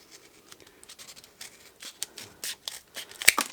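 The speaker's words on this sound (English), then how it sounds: "And you do need some strong scissors." Strong scissors snip through decorative wrapping paper while making a simple Christmas cracker, a sparse series of short crisp cuts and rustles close by that grow sharper and more frequent toward the end.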